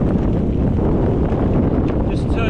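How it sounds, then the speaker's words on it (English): Strong wind buffets the microphone of a bicycle on a multi-day tour in Iceland along the F35 route, a loud continuous low rumble and roar that holds steady throughout with no talk. "Just turning into the wind a bit"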